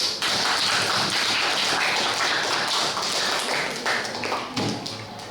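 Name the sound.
applause for Soekarno's speech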